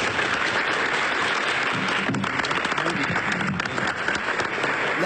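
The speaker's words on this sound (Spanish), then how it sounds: "Le aplauden como si fuera fiesta." An audience applauds the president at a human rights court hearing, with steady, dense clapping throughout at close range and a faint hint of voices underneath.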